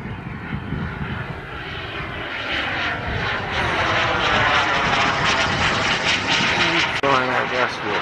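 Airplane engine droning overhead during a summer outing, a steady broad roar that swells and holds loud through the clip, with voices talking over it.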